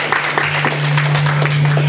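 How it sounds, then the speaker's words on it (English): Applause from a comedy show audience, a short burst of close clapping and scattered cheering over a steady electrical hum. "Give a round of applause for Mike,"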